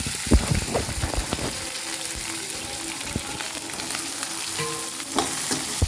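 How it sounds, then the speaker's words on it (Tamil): Onion tipped into hot oil with spices in a kadai for an egg drop curry, sizzling loudly and steadily. A few spoon scrapes and clinks sound near the start and again toward the end. "இப்போ இது கூட வெங்காயம் ஆட் பண்ணிக்கலாம்."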